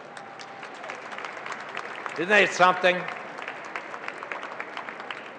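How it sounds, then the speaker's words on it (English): Audience applause at an awards ceremony for a choir member, a light spatter of clapping across a room running under a voice that speaks briefly in the middle. "could I ask that maybe we give David K. North another round of applause?"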